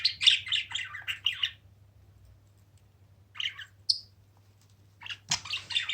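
Large budgerigar giving short chattering chirps and squawks in scattered bursts, close by over a low steady hum, with gaps of near silence between calls.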